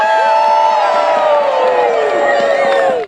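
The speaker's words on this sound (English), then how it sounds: "Cheers roared from the crowd as Freddy did not see his shadow" Crowd at a Groundhog Day prediction cheering and whooping loudly, with many overlapping shouting voices that hold up for about three seconds before cutting off sharply.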